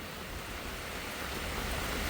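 Steady rain falls at home in a dense, even hiss that stays constant and fairly close throughout, with no voices.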